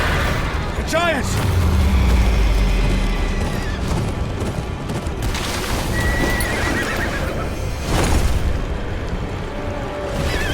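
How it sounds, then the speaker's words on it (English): Horses in the video game Game of Thrones: Kingsroad whinny and neigh loudly near the start, with hooves clip-clopping, a low boom, and battle noise and speaking voices mixed around them. "Leave the horses!"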